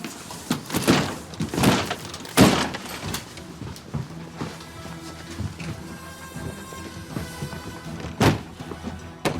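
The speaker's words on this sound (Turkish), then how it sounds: "Kır kapıyı." Several heavy thuds and bangs against a door as it is broken open, irregularly spaced, with a crash of impacts near the start and another jolt toward the end.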